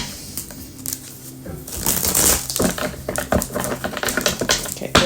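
A tarot card deck being shuffled by hand, giving dense riffling and clattering card bursts that run through the whole stretch at close range with no talking.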